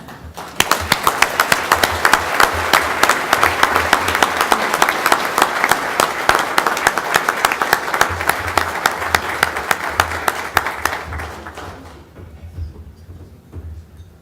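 Sustained audience applause with dense clapping at a policy talk, loud and steady for about twelve seconds before fading to quiet room noise.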